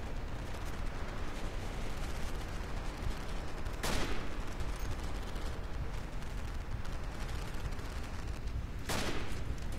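Gunfire in the World War I shooter Verdun: a dense, continuous rattle of distant rifle and machine-gun fire, punctuated by two sharp, loud close shots, one near the four-second mark and another near the end.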